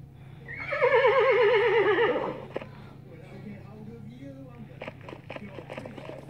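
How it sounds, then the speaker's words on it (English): A horse neighs loudly at close range, one long descending whinny with a quavering, wavering pitch lasting about two seconds, followed by quieter rustling and faint clip-clop-like knocks. "Horse."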